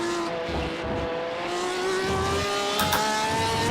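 Race car engine in a Le Mans 24-hour racing video game, a steady high-pitched whine climbing gradually in pitch as the car accelerates, with a brief burst of tire noise near the end and no talking.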